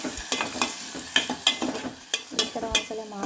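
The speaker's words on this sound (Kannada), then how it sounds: "ಟೊಮೊಟೊ ಕೊತ್ತಂಬರಿ 2 ಹಾಕ್ಕೊಂಡೆ. ಅದು ಚೆನ್ನಾಗಿ ಎಣ್ಣೆಯಲ್ಲೇ ಫ್ರೈ ಆಗಬೇಕು." Tomato and coriander fry in oil for sambar, with a crackling sizzle broken by repeated scraping stirs and utensil knocks at an uneven rhythm.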